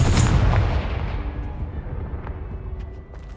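A Confringo blasting spell explodes in a Harry Potter video game: one loud, booming blast at the very start, then a rumbling tail that slowly fades away.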